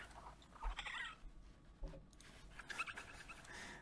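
A bird chirps from inside a computer keyboard indoors, a few faint, scattered twittering calls over low room noise with no talking.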